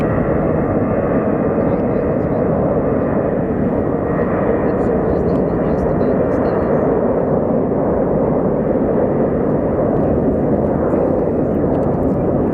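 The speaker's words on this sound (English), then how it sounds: "So up next we have Southwest 3808 going to Burbank." A Southwest airliner, flight 3808 to Burbank, takes off from Sky Harbor Airport with a loud, sustained engine roar that stays strong and steady throughout.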